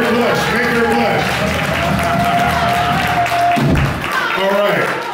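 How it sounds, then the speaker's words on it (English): Concert audience applauding a birthday at Sweetwater Music Hall in Mill Valley, steady crowd clapping with cheers and voices over it throughout, a brief dip near the end. "Can we all give her a round of applause?"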